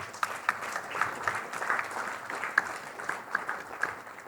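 Audience applauding panelists at the end of a conference session in Mumbai: steady, dense clapping from a crowd, sustained throughout at moderate distance with no voices over it.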